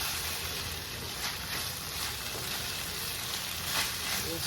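Ground meat fried rice being stir-fried in a hot pan, a steady close sizzle with scraping and tossing of the rice throughout, no talking.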